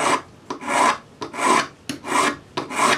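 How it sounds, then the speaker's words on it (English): A ring file scrubs sideways across a metal ring in five rhythmic rasping strokes, each a bright scraping rush separated by short pauses, close and loud with no speech. "if you scrub it sideways as you file"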